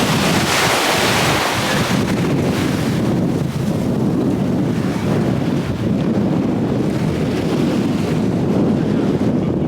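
Ocean surf rolls onto a Canary Islands beach, a loud, continuous broadband wash of breaking waves mixed with heavy wind buffeting on the microphone.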